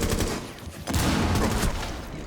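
Rapid bursts of in-game gunfire and explosions from Rainbow Six Siege fill the scene, loud and dense throughout with a brief lull near the middle.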